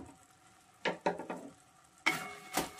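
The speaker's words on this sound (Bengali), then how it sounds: "একটু নেড়ে দিচ্ছি।" Carrots simmering in a covered pot of water get stirred with a utensil after the lid comes off, giving a few short scraping and sloshing strokes close by, then a louder burst of stirring.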